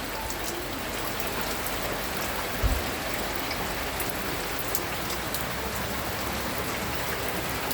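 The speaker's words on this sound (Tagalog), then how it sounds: "Grabe ang ulan, guys." Heavy rain pours down on a house with a roof in the Philippine countryside, a dense, constant hiss of drops drumming on surfaces, with one brief dull knock partway through.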